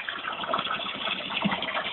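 Water gushes hard and steady from a new, powerful $126 electric water pump run off grid from a generator, a loud continuous broadband rush close to the microphone with no pauses.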